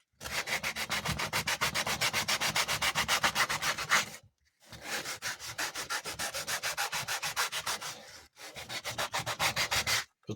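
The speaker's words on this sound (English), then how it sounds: "You can also use sandpaper to turn the edges over if you don't have the tools for it." Sandpaper rubs rapidly back and forth over leather edges while a flashlight holder is made, a close, steady scratchy rhythm in three long runs broken by two brief pauses, with no talk.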